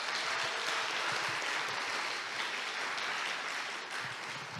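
A church congregation at a Sunday service applauds newly introduced ministry staff. The clapping is steady and continuous but heard from a distance and fairly quiet, easing slightly toward the end.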